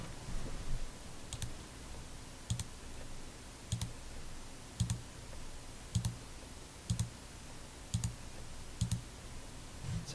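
Sharp mouse clicks on a button in a Microsoft Access form, about eight crisp single clicks spaced roughly a second apart over a faint steady room hiss.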